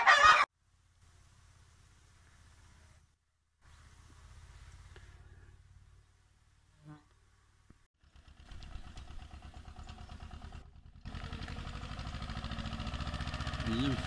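Chickens in a coop at a marketplace after stray dogs broke in, clucking on and off against a growing, noisy background, with a voice talking over them.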